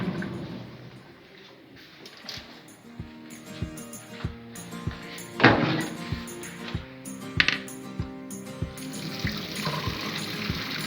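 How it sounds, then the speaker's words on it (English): Water pours and splashes into a sink as cooked noodles are drained from a pot, with light metallic clinks and knocks from the pot. "I want to go and drain the water."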